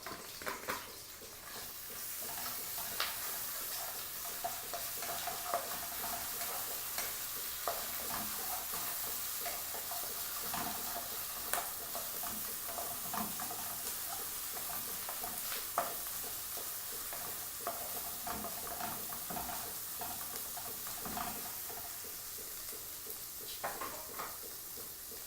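Garlic, ginger, curry leaves and green chili sizzle together in a pan, a soft steady frying hiss punctuated by scattered clicks and scrapes of stirring, with no talking.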